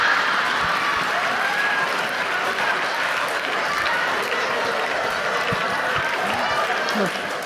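Sustained applause from a conference audience after a keynote talk, a steady dense wash of clapping at even loudness throughout with faint crowd murmur beneath.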